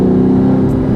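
A car fitted with a titanium straight-pipe exhaust revs in race mode, with the mufflers bypassed. A loud, steady, close engine roar holds for about a second with no talking.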